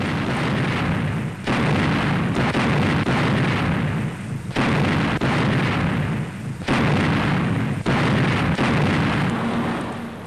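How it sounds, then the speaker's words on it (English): British mobile artillery guns firing on retreating German forces in winter during the Battle of the Bulge, heard as a continuous heavy roar of gunfire with repeated booms and breaks, loud and without speech. "Here are British mobile guns pounding away at Rundstedt's retreating Wehrmacht."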